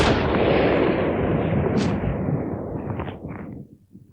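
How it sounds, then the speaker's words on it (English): A single sniper rifle shot in South Armagh, a loud close crack followed by a long rolling echo that slowly fades away. "the sniper squeezed the trigger"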